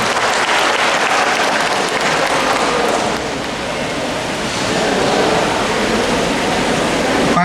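Loud, dense applause from a large crowd at an official government ceremony, a steady roar of clapping that holds throughout without pause.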